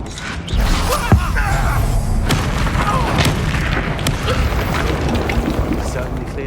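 Bombarda spell explosion in the video game Hogwarts Legacy, a deep booming blast with rumbling debris and creaks sustained over several seconds, loud and dense, with brief vocal sounds mixed in.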